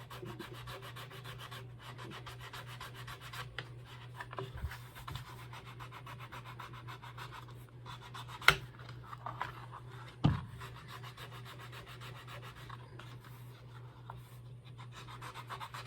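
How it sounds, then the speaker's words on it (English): A file working the end of a wooden gaff, giving quiet, steady rasping and rubbing strokes close up, with a couple of sharper knocks partway through and no talking. "So I'm going to take a file here now and"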